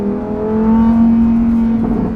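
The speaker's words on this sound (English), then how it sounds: "This is what you want your sports car to be: low, aggressive, loud as hell" A Lamborghini Huracán Tecnica sports car engine hums steadily and swells slightly, a loud deep rumbling drone with a rising tone near the end, no voices.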